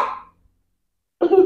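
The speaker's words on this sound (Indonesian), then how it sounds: "Ini sampai batuk dong." A short cough or throat-clearing burst at the start, then near silence before another louder burst of vocal noise near the end, recorded close up during a pizza-topping mukbang.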